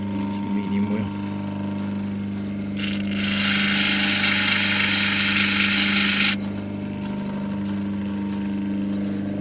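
A lapidary medium grinding wheel hums steadily, then a rainbow opal stone is pressed to it for a few seconds, adding a loud, bright gritty rasp over the constant motor drone before it lifts away.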